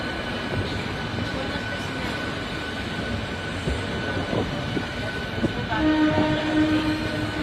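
A Howrah–Jamalpur train pulling into Howrah station, its carriages rumbling loudly and close, with a horn sounding near the end over the steady rail noise.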